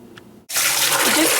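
Soaked pinto beans rinsed under a running tap, a faint sound before a brief pause, then a sudden strong, steady gush of water splashing close by, loud and continuous to the end.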